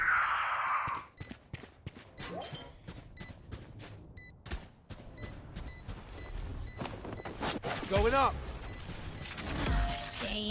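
Gunfire and explosions in the video game Valorant, rapid clicking bursts of shots with metallic mechanical clatter and a swelling blast near the end, moderately loud under occasional game voice lines.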